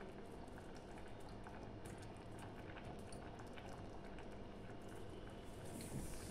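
Paneer molee coconut gravy with grilled paneer at a rolling boil, a faint, steady bubbling and popping throughout.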